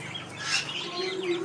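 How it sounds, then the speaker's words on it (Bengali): A Police Cap chicken clucking among other fowl and pigeons, a short nearby cluck over a busy background of birds. "আচ্ছা, পুলিশ ক্যাপ মুরগি"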